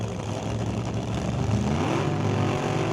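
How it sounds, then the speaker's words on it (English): A drag racing car engine revs at an NHRA test and tune session, a loud, sustained roar with a rising pitch sweep partway through, holding steady and dense for the full stretch. "Rev that thing up."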